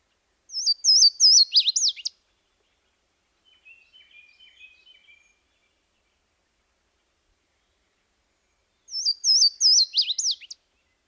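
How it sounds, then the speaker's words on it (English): Louisiana waterthrush song rings out clear and close, two bright descending phrases of chirping notes separated by a faint softer twitter, with silence around them. "let's listen now to the amazing song of the Louisiana water thrush"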